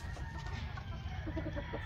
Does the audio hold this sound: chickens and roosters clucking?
yes